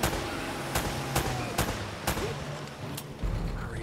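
Shootout in the action game Uncharted: a run of sharp, evenly spaced gunshots, about one every half second, over a thick, noisy game soundscape with music and effects.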